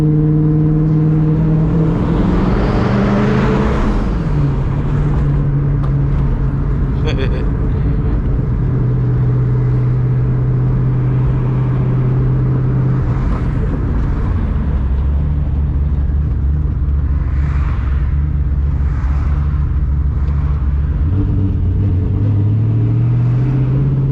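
A Ford SVT Cobra on its new exhaust drones loudly from the cabin while driving, revving up and shifting with pitch steps, then settling into a steady low rumble with occasional rises over about twenty-four seconds.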